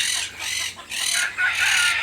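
Chickens cluck at a poultry show in four close, loud, bright bursts of rapid clucking with short pauses between them. No one speaks.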